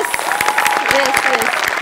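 Studio audience on a Marathi comedy show breaks into brief, dense clapping, with a voice speaking over the applause.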